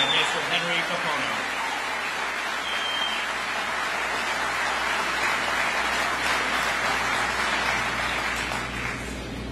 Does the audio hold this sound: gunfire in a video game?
no